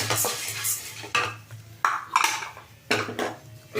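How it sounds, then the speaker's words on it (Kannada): Roasted gram (hurigadale) stirred while warming in a pan, with a spoon scraping and clinking against the metal in repeated sweeps, close and clear. "ಈಗ ಹುರ್ಗಡ್ಲೆ ಏನು ಹುರಿಯೋದು ಬೇಡ ಸ್ವಲ್ಪ ಬಿಸಿ ಮಾಡ್ಕೊಳ್ಳೋಣ"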